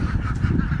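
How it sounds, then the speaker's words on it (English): A flock of pasture-raised ducks in a wet, muddy area calls out in rapid, overlapping honking quacks, close and loud, continuous through the short stretch. "this is the ducks' favorite spot"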